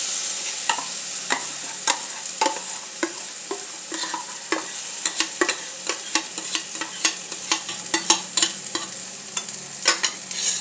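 Spinach greens stirred and frying in spice paste, with a steady hiss of oil and frequent sharp spoon scrapes and taps against the pan that grow busier over time.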